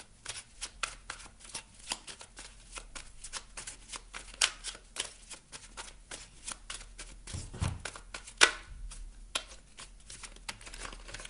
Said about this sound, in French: Je vais vous tirer une carte maintenant du petit oracle de la mission de vie.